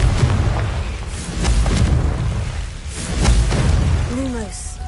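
A Confringo spell explosion in Hogwarts Legacy lands as a deep boom, followed a second later by a second, similar blast, with a rising magical whoosh trailing at the end.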